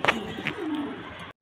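A blue pigeon gives a single short, low coo, close and soft.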